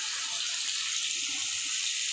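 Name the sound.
taking water from a tap while cooking fish curry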